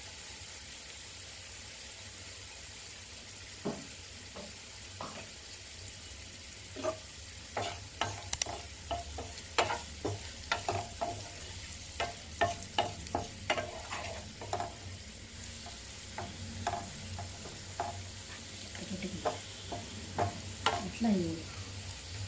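Nalleru (veldt grape) stems frying with turmeric and salt in a pan, with a soft continuous sizzle under repeated sharp scraping stirs of a spatula that quicken and cluster midway; someone speaks briefly.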